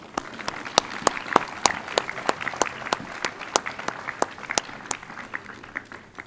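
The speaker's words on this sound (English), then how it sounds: "How about a round of applause for our cum laude inductees?" Audience applause at a school academic convocation honoring cum laude inductees: steady crowd clapping with sharp individual claps standing out, sustained for several seconds at moderate distance and fading slightly toward the end.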